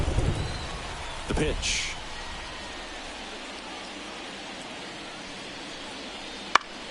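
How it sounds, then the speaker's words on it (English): Steady rain falls on a ballpark during a baseball video game, a soft even hiss with a faint roll of distant thunder early on, while a commentator speaks briefly over it. "This rain is not letting up."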